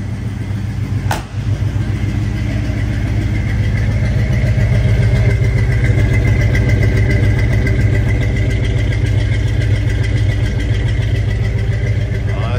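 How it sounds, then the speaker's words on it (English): A 1983 Chevrolet C-10 Silverado truck idles loudly behind its chrome tailpipes, a deep steady rumbling exhaust heard up close, with one sharp click near the start and no talking. "I want you to hear the sound coming out of those chrome tailpipes."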